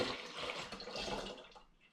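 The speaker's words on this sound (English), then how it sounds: "So now I'm going to add the melted sugar and black treacle water." Melted sugar and black treacle water poured into porter beer, a brief close liquid pour and splash that fades out over about two seconds.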